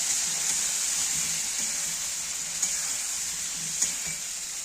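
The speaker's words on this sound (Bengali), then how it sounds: "এবার আমি মশলাগুলো দিয়ে দিচ্ছি। এবার কষিয়ে নেব ভালো করে।" Ground cumin, ginger paste and chili paste frying in a pan for a Bengali fish curry, a steady close sizzle with faint stirring scrapes and a couple of small pops.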